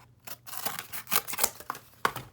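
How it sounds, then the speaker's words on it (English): Scissors snip repeatedly through cardboard in quick, uneven cuts, close and fairly quiet, with no voices. "And you just grab your scissors again and"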